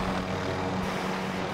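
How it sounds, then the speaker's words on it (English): A helicopter in a video game gives a steady, loud droning rotor and engine hum that carries on without a break. "I'm gonna fight this guy with the chopper here."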